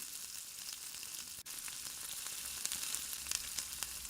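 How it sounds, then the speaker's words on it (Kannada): Cumin, chopped garlic and ginger fry in about two tablespoons of hot ghee in a pan, giving a soft, continuous sizzle with light crackles and a brief knock, heard close and without any voices. "ಒಂದು ಪ್ಯಾನಲ್ಲಿ 2 ಟೇಬಲ್ ಸ್ಪೂನಷ್ಟು ತುಪ್ಪವನ್ನು ಬಿಸಿ ಮಾಡಿ ಜೀರಿಗೆ, ಹೆಚ್ಚಿಟ್ಟ ಬೆಳ್ಳುಳ್ಳಿ,"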